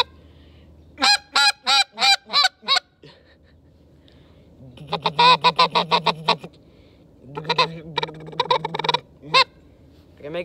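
A goose call blown like a duck call gives a rapid series of loud, close honking quacks: six sharp separate notes, then a fast rolling chatter and another burst with single notes at the end.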